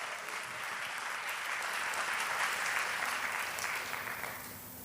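Audience applause at a church service, a steady, even wash of clapping held throughout at moderate volume, slightly distant, with no voices over it.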